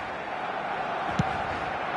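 Broad, steady roar of a football stadium crowd in a video game match, a constant dense wash of distant voices with one brief louder shout rising near the middle.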